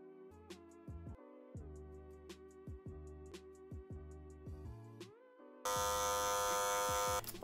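Electric hair clippers fade hair during a barber cut, a buzzing motor hum that dips and rises in pitch as the blade bites in repeated scooping strokes, then settles into a louder, steady high buzz near the end.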